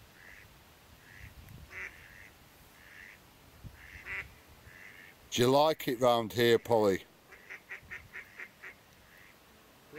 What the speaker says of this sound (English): There is a noisy duck somewhere.